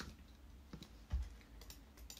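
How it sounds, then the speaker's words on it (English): Someone typing a name into a computer keyboard while adding a database record, quiet scattered key clicks with one slightly heavier thump midway, faint against a low background hum. "when I add a record, I can type in a name."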